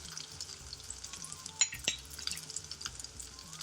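Mixed powder and chilli powder fry in oil for a garlic chilli chicken, giving a quiet, steady crackling sizzle with a few sharper pops and clinks near the middle, close and without talk.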